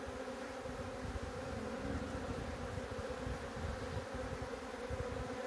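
A honey bee buzzing steadily and continuously close by, a constant droning hum with no voices over it.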